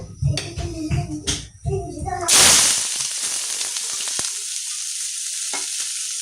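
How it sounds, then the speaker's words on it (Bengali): Chopped onions hit hot oil in a pan for an egg and potato curry, bursting into a loud, steady sizzle that settles into continuous frying hiss after some earlier clatter and handling sounds. "এখন আমি পেঁয়াজ কুচিগুলো দিয়ে দিব।"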